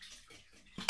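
Egg whites and whole eggs are beaten in a bowl for a ham and truffle omelette: a few soft utensil scrapes, then a sharp, close clatter of metal against the bowl at the end.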